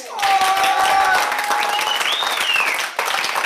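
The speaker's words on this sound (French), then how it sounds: "Applaudissez-vous, ça fait pas de mal, ça fait que du bien." Loud, continuous applause from a studio audience at a French-language radio show recording, dense clapping with whistles rising over it, cutting off briefly near the end before resuming.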